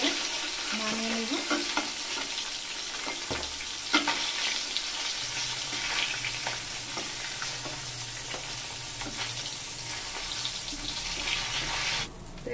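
Rohu fish pieces frying in hot oil give a steady, close sizzle, with occasional clinks and scrapes as the pieces are lifted out one by one; no one speaks.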